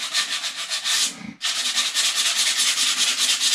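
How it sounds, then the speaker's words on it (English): Sandpaper rubs steadily over a dried paint spot on a dolphin painting, giving a close, continuous scratchy hiss that pauses briefly before resuming at the same brisk back-and-forth pace. "so I'm gonna get some sandpaper. We're just going to smooth out this spot."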